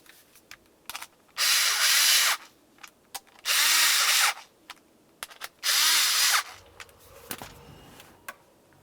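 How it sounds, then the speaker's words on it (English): A power drill drives the seat switch mounting bolts into the driver's side seat trim panel of a 2000-2006 Chevrolet Tahoe, in three loud, even bursts of about a second each, with small clicks and handling noises between them. "start in all 3 of your mounting bolts for this"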